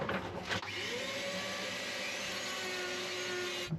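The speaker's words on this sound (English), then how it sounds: "So the easiest way, I think, is with the Dremel." A Dremel rotary tool cuts hose holes in a boat, a continuous high whining grind that runs almost unbroken for a few seconds after a brief bump at the start.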